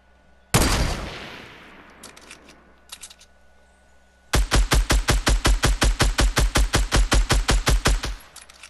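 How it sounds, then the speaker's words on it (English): Minigun fire in the video game Fortnite: one loud burst with a decaying tail, a few faint scattered shots, then a long steady stream of about twenty rapid, evenly spaced rounds, close and loud. "Somebody's shooting a minigun over here"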